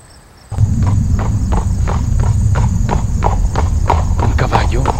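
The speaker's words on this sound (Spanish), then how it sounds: "¿Un caballo?" Horse hooves clip-clop in a steady walking rhythm, loud and close, starting abruptly after a brief quiet moment.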